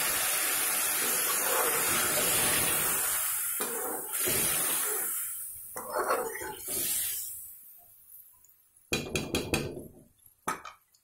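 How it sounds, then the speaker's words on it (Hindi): About half a cup of water hits a hot frying pan of fried potato-egg curry masala with a loud, sustained sizzling hiss that slowly fades, followed by a few clanks and scraping sounds of cookware. "मैं इसमें डाल देती हूँ ये तकरीबन 1/2 कप पानी"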